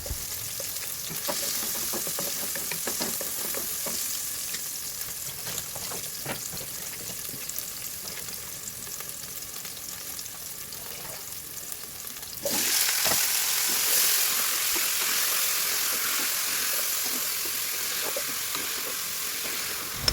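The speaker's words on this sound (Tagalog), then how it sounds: "Pagkatapos po ay ilagay po natin yung mga chicken feet." Chicken feet sizzle and spatter in a hot pan while adobo is being cooked, a steady crackling fry that jumps noticeably louder and brighter about halfway through, with no talking.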